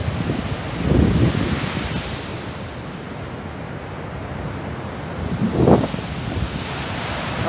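Ocean surf and steady wind at Agate Beach in Patrick's Point State Park, California, in January: a constant wash of noise with two louder breaking waves surging near the start and again toward the end.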